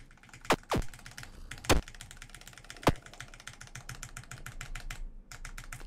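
A computer keyboard's arrow keys are pressed in rapid, steady repeated taps, close and crisp, with a few heavier thumps scattered through the run of clicks.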